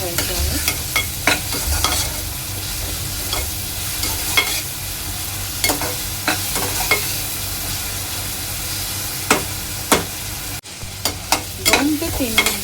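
Onions fry in a pan for prawn pulao, a steady, close sizzle with repeated sharp scrapes and clacks of a spoon stirring through it, no voices.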